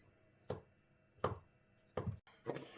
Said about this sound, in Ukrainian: А тепер ріжемо яйця.